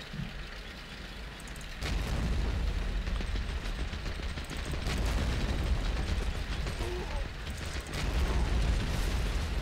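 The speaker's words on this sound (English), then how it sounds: "I saw the machine gun shooting a second ago" Machine gun fire rattles through battle noise in Men of War: Assault Squad 2, a dense, continuous mechanical clatter that swells louder after the first couple of seconds and holds steady, with no talk over it.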